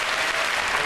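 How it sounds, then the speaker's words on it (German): A theatre audience applauds loudly after a ballet performance, a dense, continuous roar of clapping that fills the whole moment without pause. "Viel Applaus für eine Vorstellung, die hohe Erwartungen zu erfüllen hatte."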